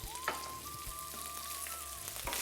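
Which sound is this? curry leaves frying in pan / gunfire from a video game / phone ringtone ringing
curry leaves frying in pan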